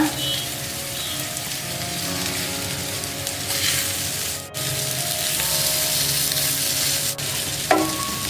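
Leftover idli tossed with masala sizzling and frying in a hot pan, a continuous crackling hiss with brief clatters as pieces are turned, steady and close with no speech.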